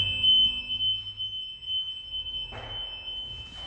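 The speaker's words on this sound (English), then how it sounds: "Now that's also the sound you'll hear when it's full of grass." A Walker riding mower's warning beeper sounds as a steady, piercing electronic tone signalling the grass catcher is full, holding through the clip over a low idling engine, with a short burst of broadband noise near the end.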